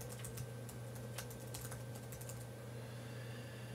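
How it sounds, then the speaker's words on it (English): Soft keystrokes on a computer keyboard entering a web address, a quick burst of light taps that fades out, faint against a steady low hum. "type in our URL."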